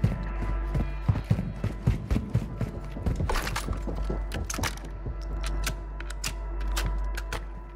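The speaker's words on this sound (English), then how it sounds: "I'm hearing. Right above me. Footsteps." Footsteps thud overhead in the video game Call of Duty: Warzone, an irregular run of heavy steps and clattering knocks close above, scattered with sharp clicks.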